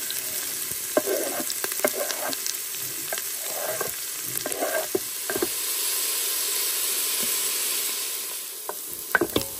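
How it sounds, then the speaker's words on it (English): Onions, celery and coriander fry in olive oil for a beef short rib stew, giving a steady close sizzle broken by scattered clicks and scrapes of stirring. "now we are going to start with the onions, the celery, as well as"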